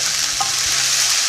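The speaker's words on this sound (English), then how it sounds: "I'm trying to get everything all mixed together so that everything can have a chance to cook" Vegetables being stirred in a pan for an oil-free vegan stir fry, onions keeping the mix from sticking; a steady close sizzle with a brief scrape of the utensil, no talk.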